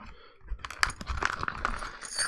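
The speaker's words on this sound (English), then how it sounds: "he also loves my stamps, and because they make that like clinking noise" Metal stamping tools clinking together in a small handful of bright, sharp clinks and chinks at close range, with faint rustling between them and no voices.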